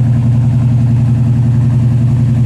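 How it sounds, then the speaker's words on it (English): 1952 Chevy Bel Air custom with a small block V8 and dual exhaust idling close by, giving a loud, deep, steady rumble with an even, continuous throb. "Dual exhaust sounds good."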